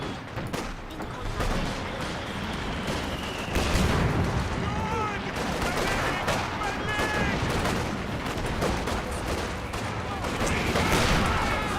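Dense battle din from the World War II strategy game Company of Heroes 2: mortar thumps and booms mixed with rattling rifle and machine-gun fire, continuous and loud throughout, with a voice-like unit callout in the mix.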